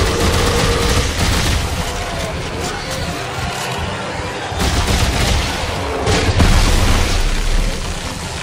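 Gunfire in the video game Dead Space 3: repeated loud shots and booming bursts scattered through the clip, with a voice talking over the action.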